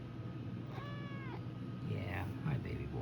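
A cat gives a couple of short meows, faint and close, with a soft voice speaking over a low background hum.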